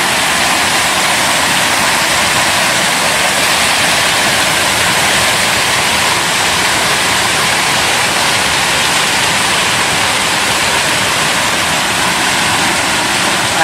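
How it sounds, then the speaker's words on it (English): A small waterfall at the Devil's Cauldron makes a loud, steady rushing roar of falling and churning water, close by and unbroken, with no voices. "we have another small little waterfall bit there."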